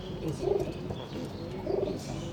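Soft, low pigeon cooing, two rounded throaty phrases about a second apart, close by over a quiet background.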